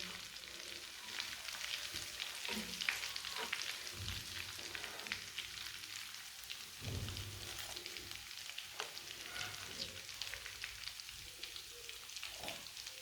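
Lentil donuts sizzle steadily as they fry in ghee, with a broad crackling hiss that stays even throughout and a few soft knocks of utensils mixed in, heard close up with no one talking.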